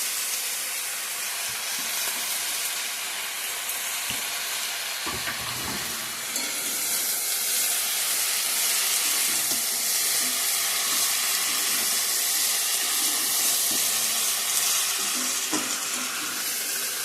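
Mixed vegetables and leafy greens frying in a hot pan for a Bengali home-style mixed vegetable dish, a loud continuous hiss and sizzle close by with occasional stirring knocks, no voices.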